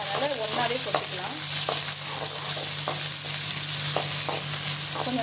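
Green chili, garlic and onion sauté with curry leaves in a pan for cabbage poriyal, a steady close sizzle broken by a few sharp scrapes of a spatua stirring.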